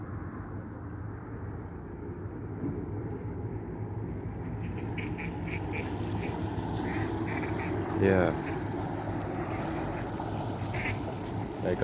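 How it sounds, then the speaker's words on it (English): Ducks on a canal quack in a brief nervous burst as a barge goes past, fairly faint against a steady low rumble, with a person speaking briefly nearby. "There go the ducks. They got spooked."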